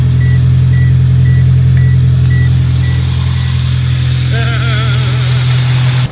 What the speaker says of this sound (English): Alright, so rad fans kicked on.